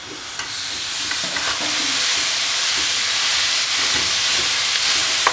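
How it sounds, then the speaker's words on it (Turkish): Minced lamb sizzles and fries loudly in a hot pot, a steady hiss with faint scraping and stirring sounds. "700 gram kuzu kıymamızı tenceremize ilave ediyoruz"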